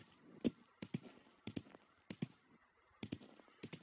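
A goose-like bird honks repeatedly in the game Bear Simulator as it is killed, a series of sharp, fairly faint honks in irregular bursts over quiet background.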